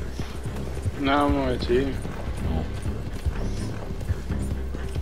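Horse hooves clip-clop at a steady gait in the video game Red Dead Redemption 2 Online, running under a voice and other game sounds.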